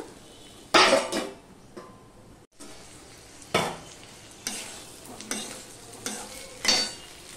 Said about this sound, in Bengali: আদা টমেটো কুচিটা দিয়ে আমি আবার একটুখানি ঢাকা দিয়ে দিয়ে ভেজে নেব।